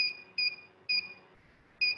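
An IoT circuit's buzzer, switched on along with a red pin, sounds four short, evenly spaced electronic beeps at a steady high pitch against a quiet background.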